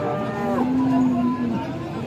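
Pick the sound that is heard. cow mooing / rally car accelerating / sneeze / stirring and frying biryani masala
cow mooing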